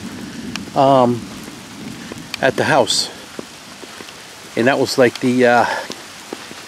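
Steady rain patters outdoors at a house after a massive lightning strike, a continuous hiss running underneath as someone talks in several bursts.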